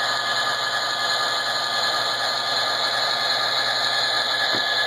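A motor running under tachometer feedback control makes a steady, loud, continuous mechanical hum with a whirring tone. Its level stays even throughout, with no voices.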